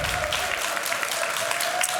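A crowd at a Clash of Clans esports tournament applauds and cheers in a dense, continuous roar of clapping, steady and fairly loud throughout.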